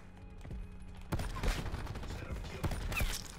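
The Locus sniper rifle from Black Ops 4, fitted with rapid fire, goes off as several sharp, booming shots at irregular intervals over steady game ambience, with a voice talking faintly underneath.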